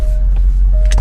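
A car rolls slowly into a parking spot outside an ice cream shop on a rainy day, steady low engine and road rumble throughout with a faint whine and a couple of brief soft knocks near the end.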